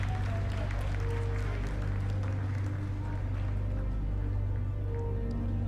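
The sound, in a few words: applause at mission control during Chandrayaan-3 lunar landing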